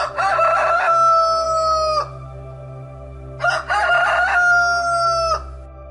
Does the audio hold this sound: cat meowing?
no